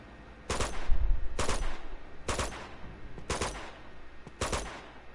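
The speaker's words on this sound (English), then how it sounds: "Fuck, who's shooting at me?" Sniper gunfire in the video game Uncharted 2, five sharp shots spaced roughly a second apart, each a loud crack with a short tail, over a low rumbling background.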